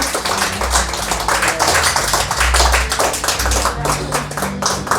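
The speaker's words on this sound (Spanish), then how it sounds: "Denle una ofrenda de palmas al Señor." Church congregation clapping as an offering of praise, rhythmic group claps with low music or thumping underneath, fairly loud and steady.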